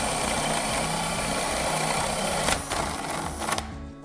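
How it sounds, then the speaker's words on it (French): An electric drill bores a hole through a wooden board with a 20 mm flat bit, a steady close whirr with slight dips as the bit bites, then cuts off near the end. "donc, je fais mon perçage."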